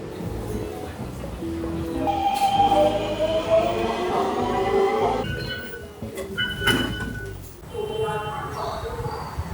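Subway train rumbling and screeching in a hot metro station, loud rolling noise with rising squeals and clanks, a voice talking over it.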